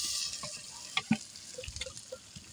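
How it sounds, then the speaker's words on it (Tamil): Ginger garlic paste frying in a pan for chicken biryani: soft sizzling and stirring with a few louder scrapes and clinks of a utensil, close by, no talking. "இப்ப இஞ்சி பூண்டு பேஸ்ட் போட்டுடலாம்."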